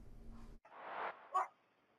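Dogs bark in the distance at night near a police scene in Kentucky, a few muffled yips and woofs over a low background hum.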